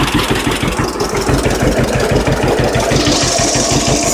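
A 1951 John Deere B tractor idles while running a generator, its two-cylinder engine putting out a loud, close, steady popping chug with an even, rapid rhythm.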